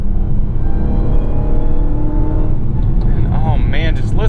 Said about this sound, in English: just listen to that supercharger just scream